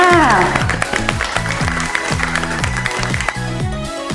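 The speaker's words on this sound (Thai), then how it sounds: "ขอเสียงปรบมือให้กับตัวเองหน่อยค่ะ" Children clap for themselves in a classroom during a counting lesson, a steady patter of hand claps running under bright, stepped electronic music tones throughout.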